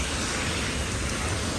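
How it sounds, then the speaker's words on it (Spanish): Torrential rain falls in an unbroken, loud wash of hissing noise with a low rumbling undertone, close and constant, and no one speaking. "Horrible como cae agua."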